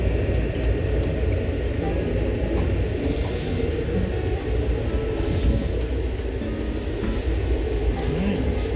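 Brightline train arriving at a station on the Fort Lauderdale to Miami run, a steady, fairly loud low rumble heard from inside the car throughout.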